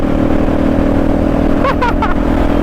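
A Honda Magna 250 carbureted V-twin motorcycle engine runs with a steady mid-pitched drone, and a brief voice-like sound comes in near the end.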